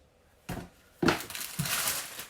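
Crinkly cardboard box and plastic bag packaging for amaretti biscuits handled up close: three distinct crunching, crumpling bursts, then a sustained rustle of plastic, with no talking.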